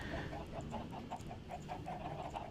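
Chickens in Minecraft clucking in a quick, regular series of short bursts, close and fairly faint, with no talking over them.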